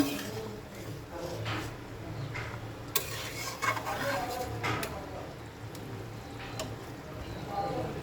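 A pan curry of potato, cauliflower and egg gets stirred, with scraping and clinking of a spoon against the pan over a low background hum, sporadic knocks scattered throughout.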